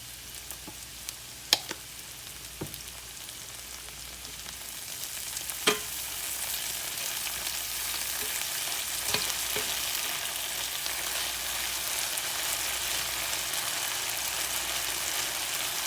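Minced garlic sizzles steadily in a pan for a salad side dish, a constant close frying hiss with a few sharp clicks and scrapes early on, growing slightly louder midway.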